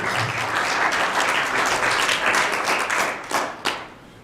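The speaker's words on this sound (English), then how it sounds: "So please give yourselves a round of applause" An audience of convention delegates at a summit claps in a full, sustained round of applause that stays loud and dense before tapering into a few scattered final claps.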